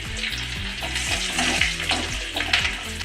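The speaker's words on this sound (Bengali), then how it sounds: "এবার ওই তেলের মধ্যে আমি প্রথমে রসুন কুচিগুলো দিয়ে দেবো এরপর দেব লঙ্কা কুচি" Chopped garlic and chili sizzling in hot oil for a chicken macaroni pasta, a loud continuous crackling fry close up, with faint utensil scrapes and a low background hum, no talking.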